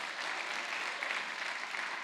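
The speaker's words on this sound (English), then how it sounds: "Let's give a big round of applause." A church congregation gives a round of applause, a dense, steady wash of many hands clapping together. It runs evenly at moderate loudness with no talking over it.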